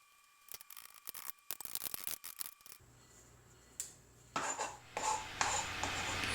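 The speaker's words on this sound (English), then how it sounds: "You'll notice I scrape the board with the back of my knife and scoop at the sharp edge" A kitchen knife scrapes across a cutting board in a home kitchen: a few quiet taps come first, then a rough, hissing scrape that swells louder toward the end, with no one talking.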